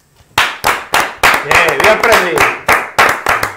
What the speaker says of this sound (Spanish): Pegaba las palmas por bulería aquí